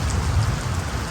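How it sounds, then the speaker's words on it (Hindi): Steady rain falls as a dense, even hiss of drops on surfaces, close and continuous for the whole brief moment, with no voices. "बरसात आ रही है"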